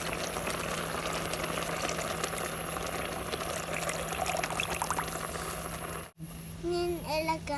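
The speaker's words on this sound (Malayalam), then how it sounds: "ഇനി ഒഴിച്ച് കൊടുക്കാം." Liquid pours steadily into a pot of ada pradaman, Kerala rice-flake payasam, with a continuous close splashing wash for about six seconds before it cuts off and a voice follows.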